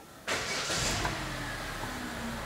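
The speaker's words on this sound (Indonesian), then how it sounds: "saya akan nyalakan mesinnya" A 2014 Hyundai Grand Avega automatic with a weak battery starting up: a brief, laboured crank as the engine catches, then a steady, close idle, with no talking.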